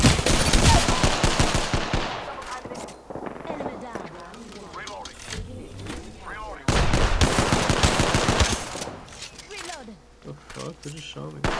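Rapid bursts of automatic gunfire from the battle-royale game Apex Legends, loud and close, crackling in dense volleys at the start and again midway, with quieter scattered shots and game effects between and voices talking over it.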